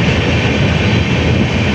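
A train passes through New Farakka Junction at speed without stopping, its dense, steady roar and rumble filling the space loud and close from start to finish.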